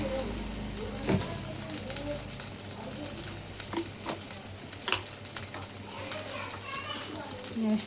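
Ginger garlic paste fries in a pan, a steady close sizzle with scraping stirs and occasional clinks throughout, while faint voices sound in the background.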